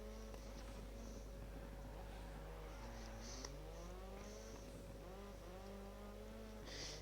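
Rally car engine from a racing video game held at medium-to-high revs through the corners of a Monaco stage, a steady droning whine with rising and falling pitch sweeps and occasional tire noise, continuous throughout.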